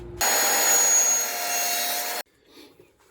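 A steady rasping saw stroke through the wood of a jewelry box runs for about two seconds, close and loud, then stops abruptly, leaving faint handling noise.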